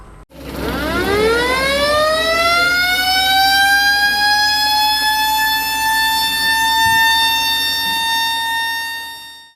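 A tank-type fire engine of the Banjarmasin fire and rescue department sounds its siren, a loud steady wail rising quickly from a low start and holding a high sustained tone for several seconds, close and alone.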